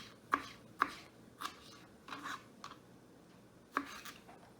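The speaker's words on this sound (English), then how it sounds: "Because I'm making bruschetta, I'm gonna chop out all the seeds" A paring knife chops the seeds out of tomatoes on a cutting board, giving about six sharp, separate knocks at uneven intervals, close and fairly quiet.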